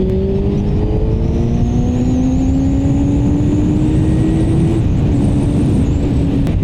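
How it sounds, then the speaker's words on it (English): A motorcycle engine revs loud and close, its pitch climbing steadily then dropping abruptly at each clutchless upshift, going up two gears while accelerating hard with no pause between shifts. "I just went up 2 gears without using the clutch"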